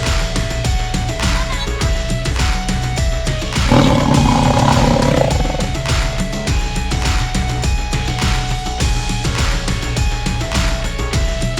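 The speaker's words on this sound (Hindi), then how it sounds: "लगता शेर आ गया" A lion roars in an animated Hindi children's story, a loud sustained roar over a steady music bed, swelling in the middle of the passage.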